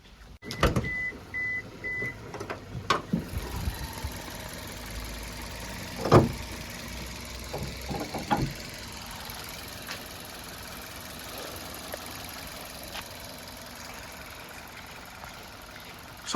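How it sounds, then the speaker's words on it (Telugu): A 2017 Maruti Nexa Baleno Zeta engine idles with the bonnet open, a low steady hum heard from close by under scattered clicks and knocks, with a few sharper bumps early on. "ఇప్పుడు ఇంజన్ ఆన్లో ఉంది, మీరు ఇంజన్ సౌండ్ అయితే వినొచ్చు."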